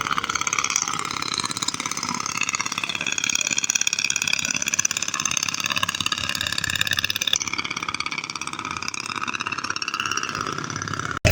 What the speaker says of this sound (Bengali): ছোট ট্রলারের আওয়াজ বেশি।